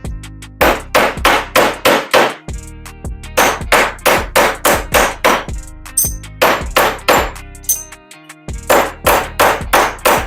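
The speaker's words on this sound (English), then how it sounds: "So I'm using this hide mallet because I don't want to damage the metal." Rawhide mallet striking a silver pendant on a metal block while it is shaped, loud repeated thwacks in quick bursts of several blows with brief pauses, ringing faintly, no voices.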